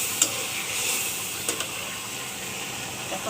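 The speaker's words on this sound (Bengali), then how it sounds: "এখন আমি এই মশলাগুলো কষিয়ে নেব।" Spices frying in a pan while cooking water spinach with egg. A soft, steady sizzle carries a few light stirring clicks, heard close up without talk.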